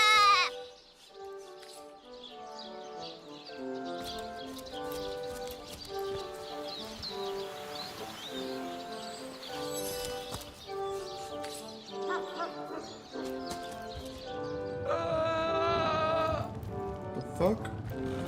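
Two sheep bleat repeatedly in the fantasy role-playing game Divinity: Original Sin, their calls mixed with game music and other in-game sounds, loud and close.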